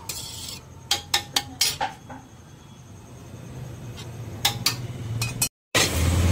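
A metal lid set over a cooking pot, several quick clattering knocks and clinks of metal on metal up close, a quieter stretch with faint sizzling, then more clinks before the pot is closed.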